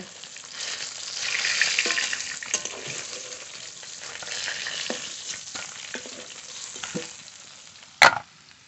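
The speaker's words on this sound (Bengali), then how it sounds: "একই তেলে বাকি মাছগুলো ভেজে নেব" Parshe fish frying in hot oil, a continuous crackling sizzle with scattered pops and spatters, close up, ending in one sharp loud clank near the end, with no talking.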